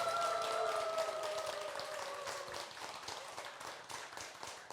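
Audience applause for three monks at the close of a Buddhist talk program, a steady patter of many hands clapping with a brief tonal hum fading early, moderately loud and continuous throughout.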